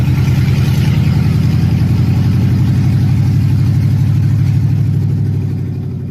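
An automatic pickup truck with overdrive, a loud exhaust needing repair and faulty electronic timing advance, revs up close and strong, its deep throbbing engine note held steady before easing off at the end.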